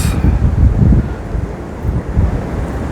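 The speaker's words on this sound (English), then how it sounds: "So you may notice it's very windy outside." Strong wind buffets the microphone in a steady, heavy rumble that swells and eases, loud and continuous with nothing else audible.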